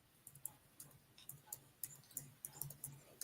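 Keyboard typing while someone takes notes during a conversation, a quiet run of light irregular clicks and taps, faint and close, with no talk over it.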